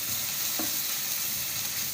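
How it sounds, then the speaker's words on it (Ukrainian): Onion frying in a pan toward golden, a steady close sizzle and crackle that holds constant throughout, with a faint clink and no speech. "цибульку підсмажу до золотистого кольору, майже золотистого, такого, щоб вона протушкувалася"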